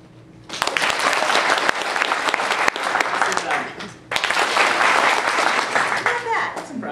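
A convention crowd at the JordanCon 2010 opening ceremony bursts into loud applause during an applause card skit, with two sustained waves of clapping and cheering separated by a brief dip.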